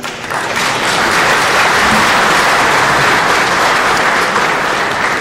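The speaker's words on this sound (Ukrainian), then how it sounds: "Аплодисменти мають." Loud, dense applause from a large audience fills a theatre hall at an agricultural party congress in Kyiv, rising quickly and holding as a steady roar of clapping for several seconds.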